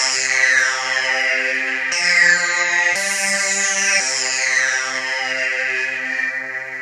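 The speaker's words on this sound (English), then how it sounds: "The original preset from Massive called Ad Voca." Massive synthesizer arpeggiator preset Ad Voca plays alone as bright, sustained chord-like tones that jump in pitch at steady intervals, loud and continuous.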